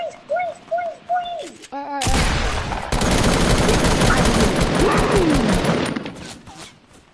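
Heavy automatic gunfire in a video game erupts after a few seconds of talking and rattles on loudly and continuously for about four seconds before fading, with voices nearby.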